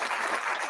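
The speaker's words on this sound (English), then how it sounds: "Clapping, I'm telling you" A short burst of clapping on a craft beer podcast, a brief dense patter of hands at moderate volume with no talking over it.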